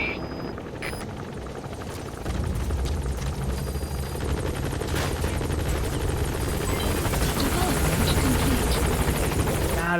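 Helicopter rotor drone from the Metal Gear Solid V video game as it arrives at a landing zone, a steady loud thrum that swells after a couple of seconds and holds, with game sounds layered over it.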